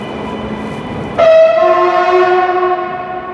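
A train pulls slowly out of Sao Bento station in Porto, sounding a loud sustained horn chord that cuts in sharply after a quieter rumbling start and holds to the end.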